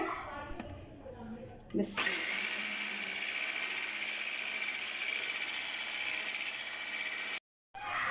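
An electric mixer whips cream for an oven-free chocolate cake. A loud, steady, high-pitched whirr runs for about five seconds and then cuts off abruptly, with a faint voice heard briefly before it starts.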